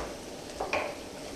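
Peppers frying in a pan for fajitas, a soft steady sizzle broken by two short scraping stirs close by.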